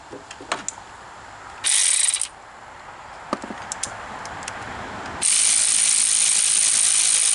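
A hand ratchet loosening bolts on a 2007 Pontiac Grand Prix during water pump work: two loud runs of rapid clicking, a short one and then a longer steady one, with faint taps and knocks between them.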